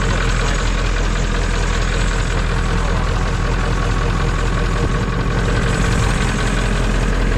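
An old Ford truck engine, a tight motor started ice cold, idles steadily and close by with a continuous low rumble and faint knocking texture, no talk over it.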